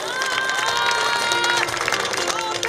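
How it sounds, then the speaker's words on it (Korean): Crowd at the opening ceremony of the 9th Icheon Ginseng Festival applauds dignitaries, clapping mixed with cheering and a sustained musical tone over the top, lively and fairly loud throughout. "박수 보내주십시오"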